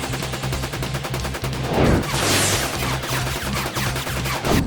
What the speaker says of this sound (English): Machine gun fire.